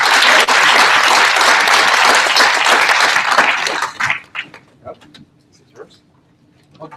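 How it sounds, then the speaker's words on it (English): A conference audience applauds panelists, dense loud clapping for about four seconds before tapering into scattered claps and faint room noise. "So let's give an applause to our panelists and thank you very much."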